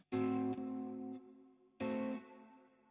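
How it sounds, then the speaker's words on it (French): Guitar played through an effects pedal chain with modulation and reverb: two strummed chords, each swelling bright and full, then a long shimmering, flanged decay and reverb tail. The chords play alone, with no talk over them. "C'est une modulation avant la reverb ou avant le délai."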